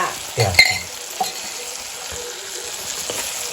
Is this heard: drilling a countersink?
no